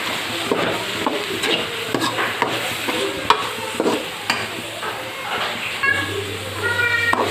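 Egg fried rice being stirred in a hot pan, with a steady sizzle of frying under repeated scraping and stirring strokes and a low hum from the stove.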